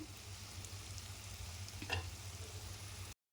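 Brinjal masala sizzling and frying steadily in a pan, a continuous close hiss with a brief stir partway through before it cuts off.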